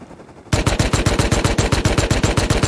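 After a brief quiet lead-in, a loud automatic weapon in the survival game Rust opens up in a steady, rapid stream of evenly spaced shots that runs unbroken to the end, with no talking over it.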